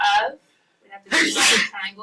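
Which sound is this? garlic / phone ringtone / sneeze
sneeze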